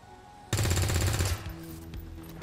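A shot fired at an enemy in XCOM 2. A loud, close burst of rapid automatic fire lasts under a second, then fades into a lingering rumble and faint background game sounds.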